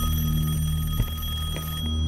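An old rotary-style telephone belonging to a grandmother rings with a steady, continuous electric bell tone, loud and close, with a slight bump near the middle and no talking.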